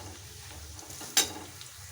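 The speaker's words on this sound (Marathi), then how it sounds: "लसूण चांगला भाजून घ्यायचा." Crushed garlic fries in a hot tempering of mustard seeds, cumin and a pinch of asafoetida, giving a soft, steady sizzle with a quick sharp crackle and stir partway through.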